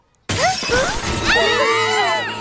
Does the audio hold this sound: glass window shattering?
yes